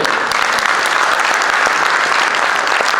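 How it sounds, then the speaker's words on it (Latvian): An audience at a regional sports awards ceremony claps continuously, a dense, loud wash of applause from a crowd that holds steady from start to finish. "Uztaisim aplausus paši sev."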